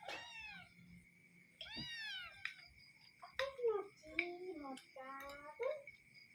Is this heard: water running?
no